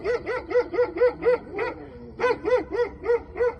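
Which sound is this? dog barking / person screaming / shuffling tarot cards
dog barking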